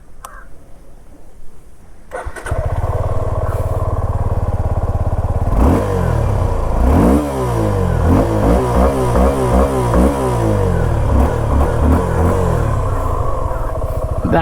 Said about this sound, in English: let's also just hear the exhaust note